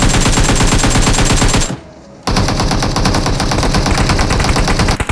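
M4 assault rifle firing in the PUBG Mobile video game, loud rapid automatic bursts, one long stream, a brief pause, then another sustained burst.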